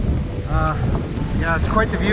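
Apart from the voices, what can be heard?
wind blowing across open grass on a hiking trail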